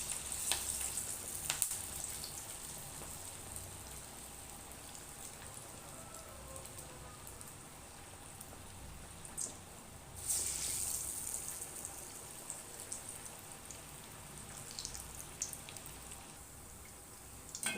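Banana flower lentil vadas fry in hot oil, a soft continuous hiss and crackle like light rain, quiet and steady with brief bursts of spatter.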